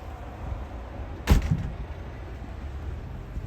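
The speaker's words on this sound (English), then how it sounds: "Let me just shut the door." Door pushed shut indoors, one brief solid thud with a short rattle, standing out clearly from low room noise.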